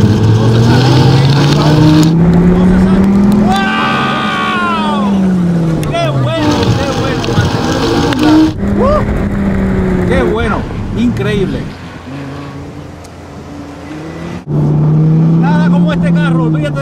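A 2013 SRT Viper GTS V10 engine revs hard and loud, rising and falling in repeated aggressive bursts with brief gaps, while someone shouts excitedly over it.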